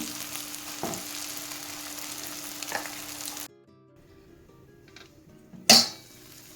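A ground paste fries in ghee and oil for brinjal biryani, a steady sizzle with a couple of stirring knocks for about three seconds. Then it falls nearly quiet, and a sharp metallic clank of a pan or utensil sounds just before the end.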